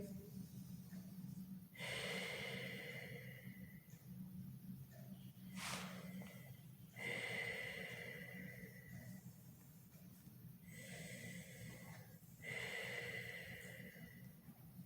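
Slow deep breaths during a yoga forward fold, long drawn inhales and exhales repeating every few seconds, quiet and close over faint background hum.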